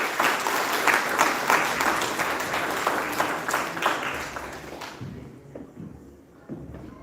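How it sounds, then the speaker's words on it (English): Audience at a benefit dinner breaks into loud applause that holds for about five seconds, then fades to a few scattered claps and faint room noise. "Let's have a big round of applause to Attorney Marcos Evangelista."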